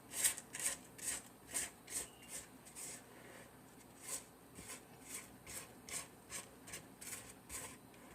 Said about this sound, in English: I'm going to scrape down the sides.